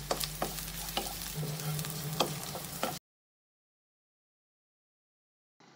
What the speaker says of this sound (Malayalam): കുറച്ച് കറിവേപ്പില കൂടെ ചേർക്കാം.